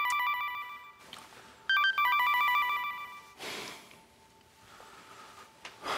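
A telephone rings in an indoor scene from a Korean TV drama: bursts of electronic warbling tones, then a pause, then another round, fairly clear over quiet room noise.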